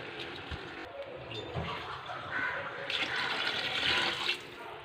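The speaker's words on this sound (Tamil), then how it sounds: "தண்ணியும் ஆட் பண்ணியாச்சு." Water pours onto soaked basmati rice for chicken biryani, a steady splashing gush that grows louder toward the end.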